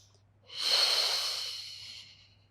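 A single long inhalation during a beginner Pilates spine-mobility exercise, a close, breathy airy draw through the nose lasting about a second and a half and fading gently, heard alone over a faint low hum.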